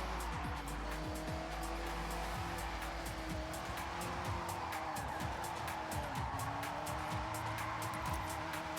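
BMW car in the Forza Horizon racing game sliding tail out, a steady engine drone under repeated tire squeals and skidding screeches that rise and fall throughout.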